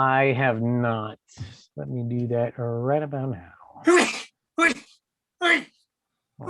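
A person sneezes in a sharp burst near the end of casual talk among players at a tabletop role-playing game session, with a couple of short loud bursts following.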